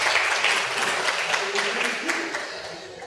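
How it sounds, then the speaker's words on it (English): A crowd applauds at an MK Party birthday celebration, a dense, steady wash of clapping that holds for about three seconds and eases slightly toward the end, with a few voices mixed into the clatter. "applause."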